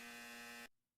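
A quiz game's wrong-answer buzzer sounds as one steady, harsh electronic buzz lasting about two-thirds of a second. It cuts off sharply, leaving a brief silence before another sound begins.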